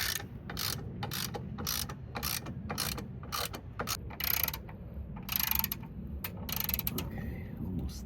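Ratchet wrench clicking as it tightens bolts on a 2025 Gen 2 Rivian R1S running board bracket, a quick steady series of close, crisp pawl ticks over low background hum, with no talk.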